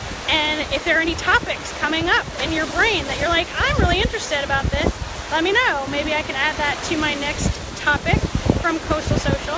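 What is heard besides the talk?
ocean waves on Gulf of Mexico shore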